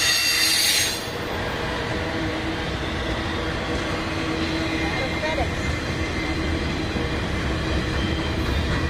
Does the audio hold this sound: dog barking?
no